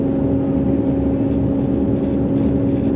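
Car driving along a road in daylight, recorded from inside by a Wolfbox G900 Pro dashcam, with a steady engine and road hum and constant low rumble throughout, no speech.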